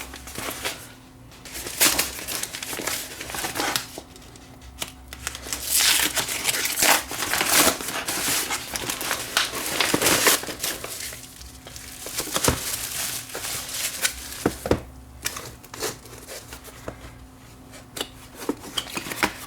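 Someone unwraps a mailed package holding a USB cassette capture player, with crinkling and rustling packing material in irregular bursts, some louder tearing and scraping, and quieter pauses between handling sounds.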